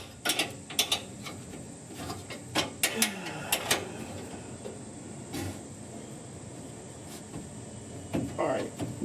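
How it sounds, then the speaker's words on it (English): Ratcheting wrench clicks and mechanical clatter while fitting the glovebox door of a 1966 Ford F100, several sharp close bursts scattered through a quiet workshop hum. "Come on, wrench."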